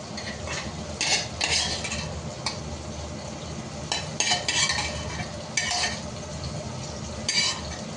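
Prawns stirred with a metal spoon in a hot pan for a prawn pulao, steady background sizzle with repeated scraping clinks in bursts every second or two, close and moderately loud, no talking.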